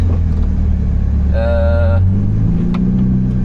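Ferrari Roma engine heard on board during a Nürburgring lap: a steady low rumble fills the cabin throughout, with a brief rising whine near the middle before settling back to a constant drone.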